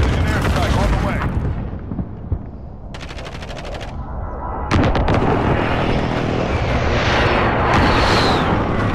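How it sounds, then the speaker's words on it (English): Precision airstrike in the Modern Warfare video game: dense, loud rumbling blasts and rapid fire roll on continuously, with a brief chattering burst in the middle and voices mixed in. "Friendly precision airstrike on the way."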